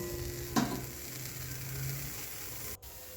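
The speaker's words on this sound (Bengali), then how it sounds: "এবার কড়াটা খুব গরম করে নিয়েছি তারপর পাতাগুলো দিয়েছি" Washed leaves sizzle in a very hot wok while shukto is being cooked, a steady, moderately quiet hiss with a brief clatter near the start and a short break near the end.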